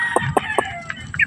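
Young gamecock stags in a backyard give short, rapid clucks followed by brief crowing notes, several quick calls in a row, close by and fairly clear against a quiet background.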